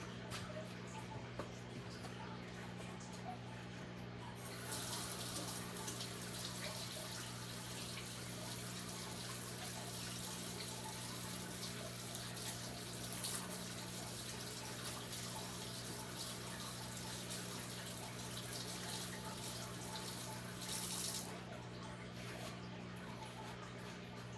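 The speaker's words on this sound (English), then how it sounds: "I'm going to go wash my hands." Kitchen tap left running for handwashing while making biscuits, a constant broadband rush of water with a steady low hum beneath that brightens a bit from about five seconds and runs on unbroken for the whole stretch.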